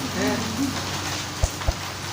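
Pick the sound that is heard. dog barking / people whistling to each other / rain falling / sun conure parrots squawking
rain falling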